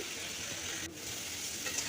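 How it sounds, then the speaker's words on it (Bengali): Oil sizzles steadily in a wok as cauliflower fries, a soft continuous crackle with a brief dip partway through. "আমি এখন কড়ার মধ্যে দিয়ে দিলাম লাল করে ভাজা ভাজা করব"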